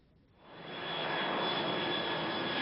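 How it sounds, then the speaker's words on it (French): An airplane flies low over houses in Villeneuve-le-Roi near Orly airport, its engine roar swelling in from quiet to a loud, steady, continuous rush with a faint whine. "Des avions comme celui-ci, Éric Joussin en voit passer 250 par jour."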